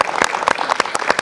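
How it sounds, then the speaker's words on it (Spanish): A group at a feminist gathering in Coyoacán claps for Mariel, a brief burst of close, dense applause without talk. "Y yo les pido un aplauso para Mariel."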